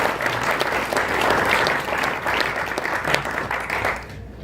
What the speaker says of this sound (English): Big round of applause from him,